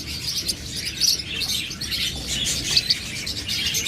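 A pair of parakeets, a turquoise and a splendid female, chirp in a steady run of high, thin tweets over a low background hum, with brief sharper calls standing out among the continuous twittering.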